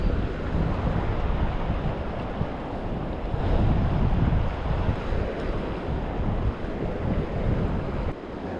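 Strong wind at an Australian alpine fishing spot near Thredbo roars continuously and loudly, buffeting the microphone with a dense, rushing noise and no talk.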